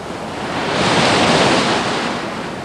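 Surf on a Togo beach, a broad roar of breaking waves swelling and easing over a few seconds, steady and full with some wind noise and no talk.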